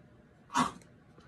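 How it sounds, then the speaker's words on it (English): A single short, harsh cough-like burst from a dog, moderately close, against quiet background hiss. "my poor dog is back here coughing"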